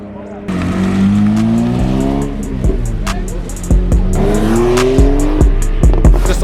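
A Porsche 992 GT3 supercar accelerates on a city street, its engine pitch climbing in loud, close sweeps, cut by sharp gear-change pops and a brief tire chirp.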